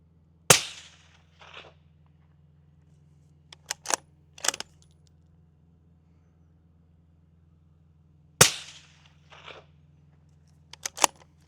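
Two suppressed gunshots from a Ruger rifle fitted with a Dead Air Ruger RXD 30 TI silencer, each a sharp, deep thump, about eight seconds apart, each followed by fainter clicks and rattles against a steady low hum.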